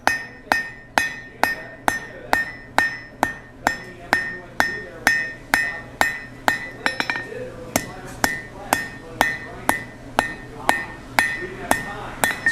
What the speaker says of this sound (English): I'm going to come here, hammer preferentially on the outside edge